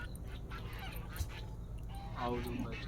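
Ducks quack and honk faintly in the background of a mango orchard farm while a person talks, with one call standing out near the end.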